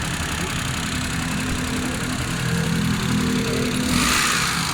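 A Suzuki Mehran idles after a head gasket repair, its engine giving a steady, even hum close to the microphone with a slight rise in noise near the end.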